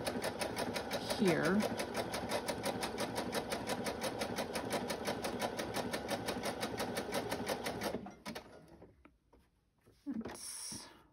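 A home sewing machine stitches a zigzag across fabric in a rapid, even mechanical chatter for about eight seconds, then stops; a person speaks briefly over and after the stitching, close and fairly quiet.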